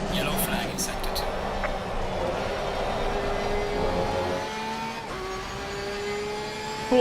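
A race car engine in the game Assetto Corsa Competizione at Kyalami drones and shifts pitch as it accelerates through gears, with a voice talking over the steady motor noise.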